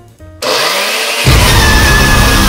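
A kitchen blender switches on after a brief quiet moment and runs at a loud, steady whine, then surges even louder and harsher as it keeps going, with no voices.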